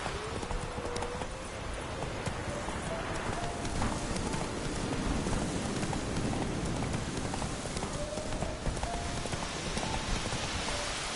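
Horse hooves clip-clop at a steady gallop in the Witcher 3 video game, a continuous rhythmic drumming at moderate level with occasional whinnies over a soft rain-like background.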